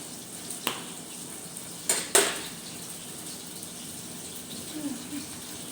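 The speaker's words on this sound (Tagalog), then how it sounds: "Yan po, nagigisa po ako ng kamatis" Whole tomatoes and white onion sauté in a pan with a soft, low sizzle, punctuated by a few sharp metallic clinks of a utensil against the pan, close by, with faint talking.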